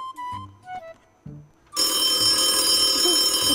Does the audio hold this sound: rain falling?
no